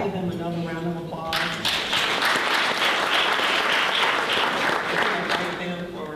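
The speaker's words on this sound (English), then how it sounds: "Let's give them another round of applause." An audience at a North Augusta Chamber leaders' event breaks into loud, sustained applause, many hands clapping densely for several seconds after a brief spoken remark.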